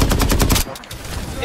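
Rapid automatic gunfire from the battle-royale video game Farlight 84, played as the hero Lucinda: a loud, tight burst of shots for about half a second, then a quieter pause with faint distant shots.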